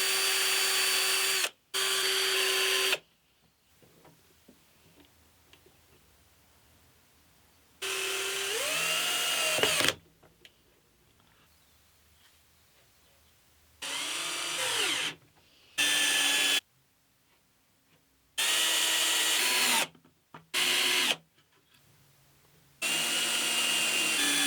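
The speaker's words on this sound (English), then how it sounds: "Whoever it was suggested I got this type of countersink bit. Thank you. I can now do nice round countersinks." Several bursts of a countersink bit in a power drill, each a loud high whine that spins up and stops, cutting round countersinks in wood with quiet pauses between.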